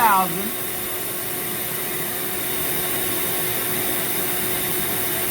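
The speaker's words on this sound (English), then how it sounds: "We are using Dremel 4000." A Dremel 4000 rotary tool carving wood into a snowman gives off a steady, high-pitched whine that holds at an even level throughout, close and continuous after a brief spin-up at the start.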